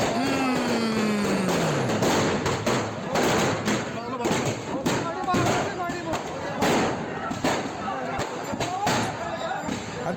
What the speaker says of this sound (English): I just don't understand why you be shooting fireworks out of a car